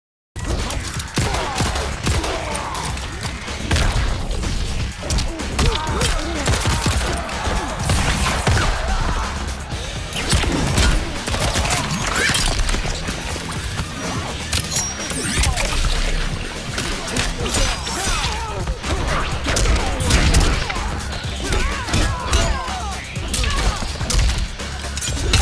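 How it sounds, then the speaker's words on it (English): Mortal Kombat arcade fighting game action, a dense and loud stream of hits, crashes and bursts that continues without pause for the whole stretch. "Let's take a look at modern day gameplay with Mortal Kombat."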